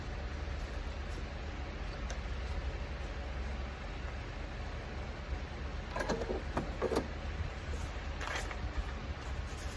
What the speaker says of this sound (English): My fans are working against me right now with this heat.